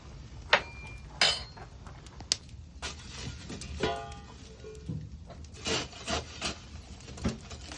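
A spoon stirs alligator sauce piquante in a pot, with intermittent close wooden scrapes and knocks separated by quiet gaps, no voices.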